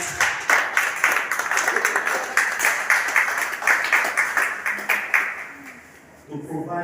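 Applause from the audience at a Rotary Club fellowship gathering: steady, moderately quiet clapping that runs for several seconds, with speech over it before it fades and a voice returns.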